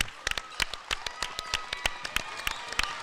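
Scattered applause greets seniors walking out on senior night at a high school basketball game in a gym, with sharp, uneven claps and bright squeaky tones running over a steady crowd murmur.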